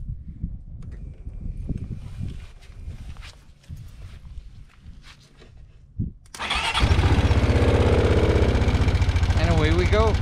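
Honda ATV on a trip between teacher housing, a school and a store, first a low irregular rumble under a speaking voice, then the engine revs up loudly and holds a steady drone as it pulls away.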